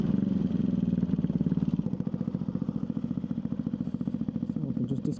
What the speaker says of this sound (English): Just too much of a loud bike.